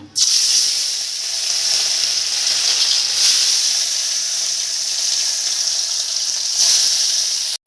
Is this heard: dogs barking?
no